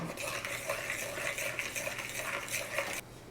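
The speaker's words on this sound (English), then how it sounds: "Okay, so we kind of gently stirred it." A spoon scrapes and clinks steadily around a bowl, stirring a honey mixture in a rhythmic motion, close and moderately loud, then stops.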